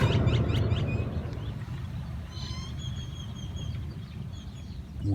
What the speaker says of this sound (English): You always hear the birds.